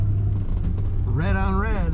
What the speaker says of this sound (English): Today we're driving a 1978 Chrysler Cordoba.